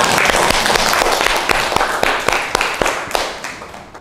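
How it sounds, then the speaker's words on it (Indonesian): A classroom bursts into applause for a student's correct answer during a lesson, a dense run of sharp hand claps from many students close by, steady throughout before thinning out near the end. "kasih tepuk tangan dong"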